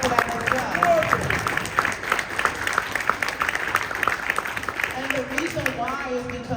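Keynote audience at a conference breaking into dense, sustained applause that stays fairly steady throughout, with voices faintly audible in the crowd.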